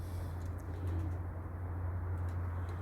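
Pigeons cooing in a soft, steady low murmur over constant background hum, continuous and moderately near, with no voices.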